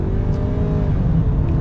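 A Ford Maverick Lariat FX4 pickup truck accelerates with a loud, steady engine drone and road noise, heard from inside the cab.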